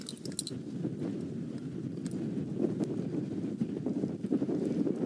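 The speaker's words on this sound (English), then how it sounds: "the wind is absolutely howling" Strong, gusty wind roars and buffets the microphone continuously on an open safari vehicle in the African bush, a loud low rumble with occasional sharper gust peaks and no voices.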